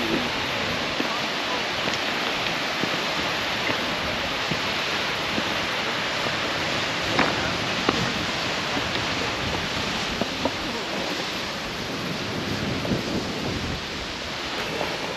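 Fantail Falls in New Zealand's Haast Pass, a steady broadband rush of falling water heard close and constant, with faint voices over it.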